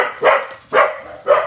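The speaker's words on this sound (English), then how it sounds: "I'm sorry about the dog." A dog barks three times indoors, loud and close, with evenly spaced sharp barks and short pauses between them, no talking.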